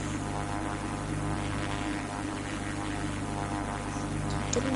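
Propeller airplane engine in a 3D flight game, a constant droning hum that runs unbroken and fairly loud from start to finish.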